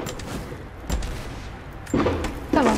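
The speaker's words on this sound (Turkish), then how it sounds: "Havai fişeklerden nefret ediyorum." Fireworks burst in the video game Rise of the Tomb Raider: three sharp, booming pops spaced about a second apart over a low, rumbling game ambience.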